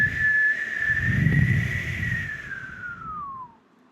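A woman reading a children's story aloud imitates a hen's funny whistling noise with her own voice, a single long, wavering whistle that slides downward and trails off, close and clear.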